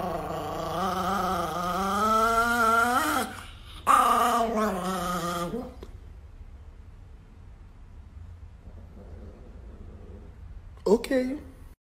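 Angry Chihuahua growling close up in a drawn-out rumbling snarl, breaking into a brief sharper burst, then quiet room tone before a short final yip at the end.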